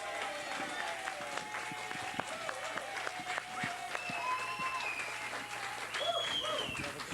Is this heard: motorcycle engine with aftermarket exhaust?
no